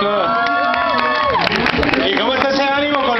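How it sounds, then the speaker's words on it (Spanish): A street-event crowd claps and cheers loudly, with shouts and whistles rising over the clapping and a loud voice rolling through the noise. "Venga, el aplauso."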